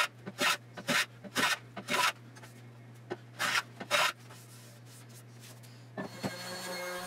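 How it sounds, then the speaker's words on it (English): A hand plane makes short, scraping passes over a wooden board to clear router burns, about eight quick strokes in uneven clusters, close and fairly quiet over a steady low hum. "And to remove any burns, I take a few passes with the hand plane."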